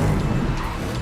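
Batmobile tearing through a chase scene from the Batman film, tires skidding and squealing under a loud roaring car engine in a short, dense burst.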